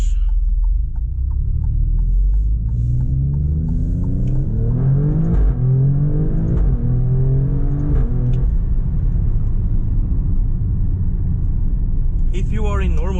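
Alfa Romeo Stelvio Quadrifoglio SUV, 510 hp, in race mode: a steady, loud engine drone runs throughout, with revs climbing and falling in the middle section and a sharp rising burst near the end. Someone talks over it.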